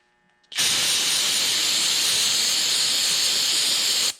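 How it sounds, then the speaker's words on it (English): An aerosol can of brake cleaner sprays in one continuous close, loud hiss lasting about three and a half seconds, starting abruptly after a quiet moment and cutting off sharply at the end. "That was just brake cleaner."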